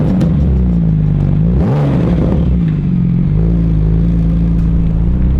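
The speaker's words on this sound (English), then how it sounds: "switch on that engine" A Porsche 911 GT2 RS Weissach engine runs close by with a steady low rumble and a brief rise in pitch near the start, smooth and even rather than growling, with no talk over it.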